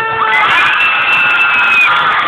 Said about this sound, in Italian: ho sentito solo urlo di donne, Alex.